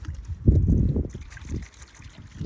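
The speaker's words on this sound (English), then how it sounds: "Just trickling" On a farm, water trickles from a field drain outfall pipe that has just been flushed: faint, irregular splashing, strongest in the first second, under quiet outdoor ambience.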